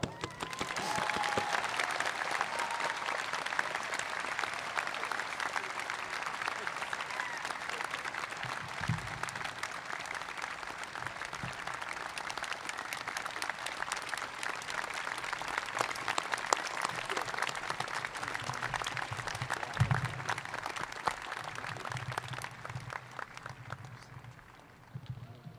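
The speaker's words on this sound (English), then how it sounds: "We should keep clapping." Sustained audience applause fills a high school graduation ceremony, steady and dense throughout with a few scattered voices and crowd noise underneath, tapering slightly at the very end.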